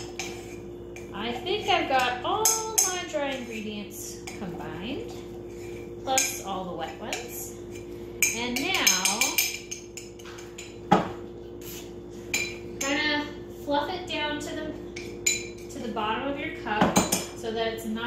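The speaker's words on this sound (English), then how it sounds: "And stir really well." A spoon clinks and scrapes repeatedly against a ceramic mug while stirring gluten-free cinnamon roll batter with extract, a steady clatter running throughout under bursts of background music and voices.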